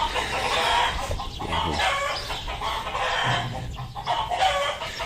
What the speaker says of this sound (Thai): เสียงไก่ร้องครับ